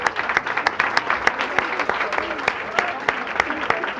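Audience applause at a panel discussion in a cultural center, a lively burst of many hands clapping in a crisp, fairly close, irregular patter that holds steady throughout.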